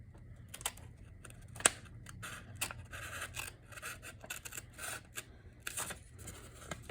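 Scissors snip through a junk mail paper envelope in short, crisp cuts at an irregular pace, close and fairly quiet, with one sharper click partway through.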